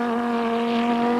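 A turbocharged Opel Calibra race car at Kyalami holds a steady, loud engine tone on full boost as it pulls away, with a strong constant pitch and no talk over it.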